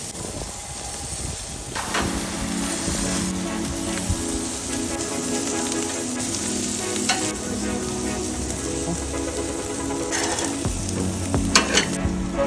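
A rack of young lamb sizzles in a hot pan, a dense steady crackle close up with occasional knocks and clinks of utensils, no talk.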